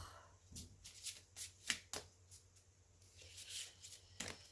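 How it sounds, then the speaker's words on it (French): Oracle cards being shuffled by hand, a run of quick riffling and flicking bursts close up, irregular and crisp over a quiet room hum, with no talking. "je vais battre les cartes"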